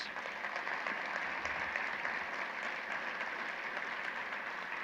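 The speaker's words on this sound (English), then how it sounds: "Let's give Elena a round of applause." Sustained audience applause filling a large conference general session hall, a steady dense wash of many hands clapping at an even level throughout with no voices on top.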